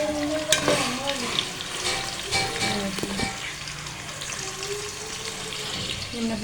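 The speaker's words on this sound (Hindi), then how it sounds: "हमारे प्याज जो है फ्राई होना शुरू हो गए।" Onions fry in a pan for a Desi-style chana dal with bottle gourd, a steady soft sizzle running throughout with a few clinks and brief taps near the start; no one speaks.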